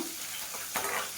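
Cut green chillies frying and being stirred in a pan, a faint steady sizzle with a soft scraping stir toward the end, brief and quiet.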